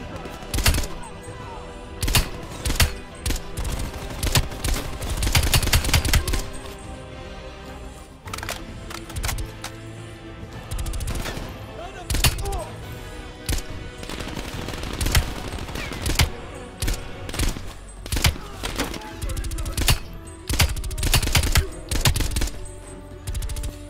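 Rapid rifle gunfire in Call of Duty: Black Ops Cold War, loud bursts and single shots cracking through about twenty seconds of combat, over a steady backdrop of game ambience and explosions.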